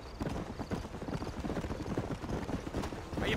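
Steady clip-clop of a horse's hooves at a trot in the Red Dead Redemption video game, a close, continuous rhythmic pattern lasting throughout with no voices.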